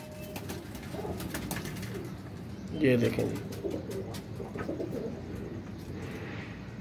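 Teddy pigeons coo softly and repeatedly nearby while someone talks over them, with one louder burst of cooing partway through.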